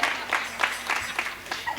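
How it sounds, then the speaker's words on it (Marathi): A kirtan audience in Nashik applauds, with a rippling patter of clapping that rises in quick pulses. Voices can be heard faintly beneath it. "पुन्हा टाळ्या."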